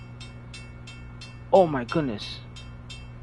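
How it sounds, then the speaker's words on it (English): A Train Sim 5 locomotive sounds two bursts of its horn in the middle of the stretch, loud and brief over a quiet, steady rail hum and faint periodic clicking. "this train is awesome"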